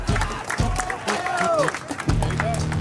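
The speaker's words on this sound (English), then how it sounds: "Big round of applause" A crowd applauding and cheering at a fishing tournament weigh-in on a bright day outdoors, scattered clapping and voices mixed with an announcer's talk through the short stretch.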